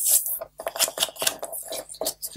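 Scissors cutting paper or craft covering for a December Daily journal, a series of close snips and rustles in quick irregular succession.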